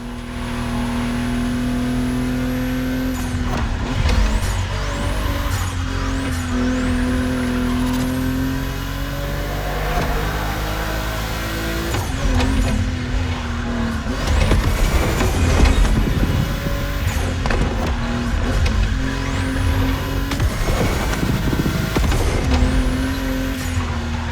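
Volkswagen race cars racing on a track in The Crew Motorfest video game, engines roaring and revving through repeated rising shifts and upshifts, loud and sustained with several passes and surges over about twenty seconds.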